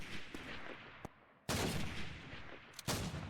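M1 rifle fire in the video game Call of Duty 2 at a church, several loud sharp shots with a couple of bigger blasts separated by quieter gaps.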